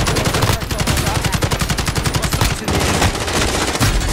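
Rapid automatic gunfire from a Modern Warfare match rattles in fast, loud bursts, a steady stream of shots broken by a brief pause, then more firing with a few heavier single cracks.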